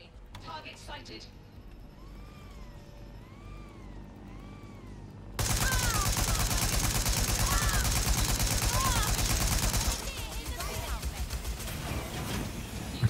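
Rapid gunfire bursts in Watch Dogs: Legion aimed at an exploding drone, loud and dense from midway on, layered with game music and effects after a quieter opening.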